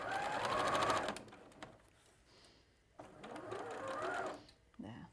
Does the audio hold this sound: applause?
no